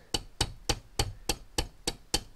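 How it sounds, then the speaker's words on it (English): A small rubber hammer taps a tube into a Saturn/Warn overdrive housing on a CJ-2A Jeep, giving eight sharp, evenly spaced knocks at close range, each with a short thud and quick decay. "And then I just take a little rubber hammer. You're not gonna bludgeon it. You're just gonna tap it in."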